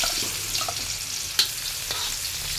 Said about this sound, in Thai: ผัดน้ำมันให้หอม